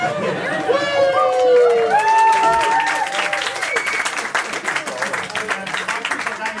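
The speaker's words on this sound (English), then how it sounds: "Single round of applause." Comedy club audience breaking into a single round of applause, dense clapping with some cheers and chatter, loud and close, rising at first then settling into steady clapping.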